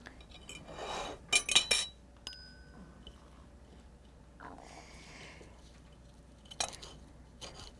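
Fresh mint is chopped with a knife at a farmers' market: a few quick, faint taps and clinks, mostly in one short burst, with soft rustling in a quiet room.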